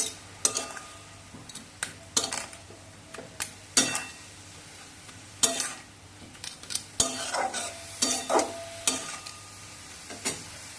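A spatula stirs grated papaya in a pan for Bengali papaya ghonto, a run of sharp scraping strokes and metallic clinks at an uneven pace over a faint sizzle, close by.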